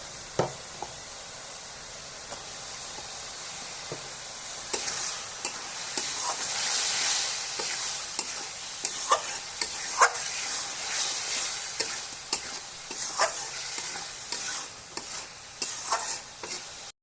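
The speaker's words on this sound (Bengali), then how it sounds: "চিংড়ি মাছগুলো মশলার সঙ্গে অনেক সুন্দর কষানো হয়ে গেছে" Shrimp being stir-fried in a pan with spice paste for a jackfruit curry, a low continuous sizzle under repeated sharp clacks and scrapes of a spatula at an uneven rhythm, close by.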